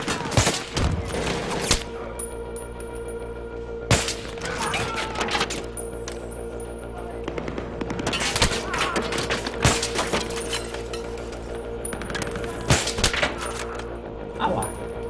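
Gunfire in Battlefield 3 during a night campaign mission: scattered loud shots and cracking impacts with glassy, clinking debris over a constant low hum, and a voice talking now and then.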